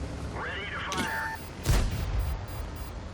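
A T44 tank's cannon fires in World of Tanks, one sharp booming shot roughly midway, preceded by a rising whine and brief voice-like tones, followed by a rumbling decay.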